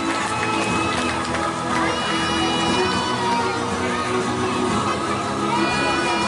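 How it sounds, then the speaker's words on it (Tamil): Audience applause with cheering and children's shouts fills a school building-opening ceremony and diamond jubilee, a dense, steady crowd roar lasting throughout at close range. "உங்களுடைய அன்புடன் கரகோஷங்களை கொடுத்து உற்சாகப்படுத்துமாறு அன்பாய்ந்து சாத்தியம்."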